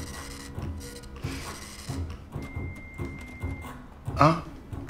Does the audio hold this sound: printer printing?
yes